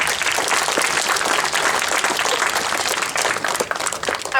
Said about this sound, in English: So give you guys a big round of applause yourselves.